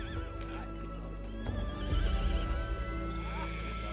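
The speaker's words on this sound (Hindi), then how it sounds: "डेरा पे अनाज देने जा रहे थे कि ठाकुर को एक घोड़ी की दर्द भरी आवाज सुनाई दी।" A mare whinnies in pain with shrill wavering neighs over a low rumbling background, and hoof clip-clops and stirring noises can be heard nearby.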